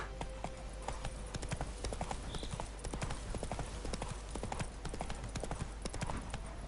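Roach the horse trots through The Witcher's Toussaint, hooves striking in a brisk, regular clip-clop over a low steady hum, with a faint voice now and then.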